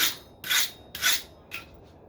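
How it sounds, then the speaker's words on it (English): Wire brush scrubbing scale off a forged steel fork, four quick rasping strokes, the first three strong and even, the last one shorter and fainter, close by with no speech. "Brush off the obvious scale."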